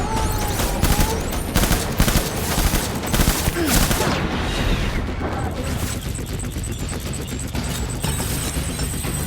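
Sustained gunfire from the video game Death Stranding, dense bursts of shots and rattling automatic fire filling the whole stretch, loud and close, with brief voices heard among the shooting.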